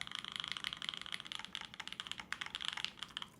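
Fast, even typing on an FLX Virgo mechanical keyboard with a rubber grommet mount, an aluminum plate and no foam, giving a steady stream of crisp, close clacks with a quiet background.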